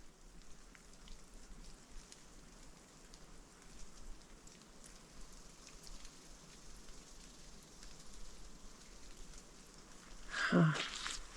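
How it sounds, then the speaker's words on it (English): Water dripping from trees at a lake in the woods like light rain, a steady faint patter with no one speaking, ending in a brief louder knock or rustle near the microphone. "I hear what sounds like rain falling out of these trees."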